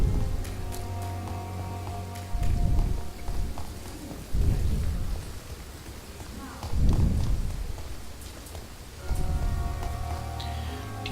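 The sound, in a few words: rain in a video game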